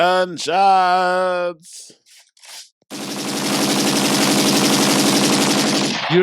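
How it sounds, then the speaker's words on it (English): A short tonal sound and a few brief noises, then a loud, sustained burst of rapid automatic gunfire lasting about three seconds. "Wait. Gunshots."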